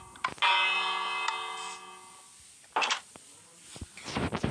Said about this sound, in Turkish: Şuraya basınca zil çalıyor.